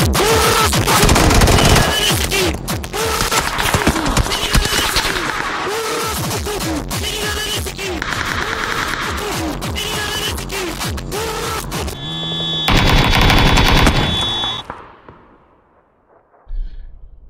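Rapid automatic gunfire from the video game PUBG rattles almost continuously for about fourteen seconds, loud and dense, with a brief pause near the end before a final short burst.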